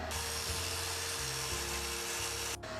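A MIG weld made with a Harbor Freight Titanium MIG170 welder is cleaned up, most likely with a power tool, giving a steady close whirring grind with shifting low tones that cuts off abruptly near the end.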